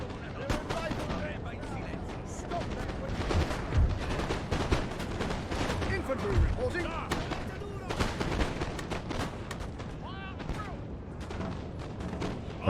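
Musket volleys crackle throughout a Napoleonic battle in Napoleon: Total War, a dense, continuous barrage of overlapping shots with a couple of heavier booms, loud and sustained against busy battlefield noise.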